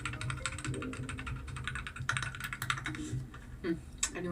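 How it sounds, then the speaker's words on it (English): A password being typed on a computer keyboard, with a quick run of close, soft key clicks and taps followed by a couple of firmer strokes, with faint voice or room sound underneath. "Okay, let's type my password."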